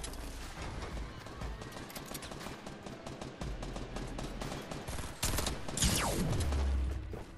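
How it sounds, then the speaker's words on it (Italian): Rapid bursts of gunfire in an online shooter game, dense crackling shots throughout with a sharp louder blast near the end, under game ambience and no clear talk. "Ma è possibile che ho due colpi di pompa?"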